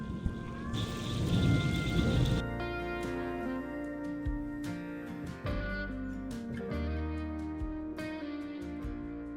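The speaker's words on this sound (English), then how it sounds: "it is about to storm" Steady rain pours outdoors near a pop-up camper while thunder rumbles, with a burst of heavy hiss early on and a dense rain texture carrying throughout.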